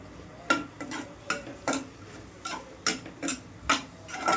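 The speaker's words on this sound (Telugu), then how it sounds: "ఆనియన్స్ వేయాలి. ఇట్లా మంచిగా ఇట్లా కలుపుకోవాలి." A spoon stirs sliced onions frying in oil in a pan for prawn curry, with a series of sharp, irregular scraping clatters over a soft background sizzle, close and fairly loud.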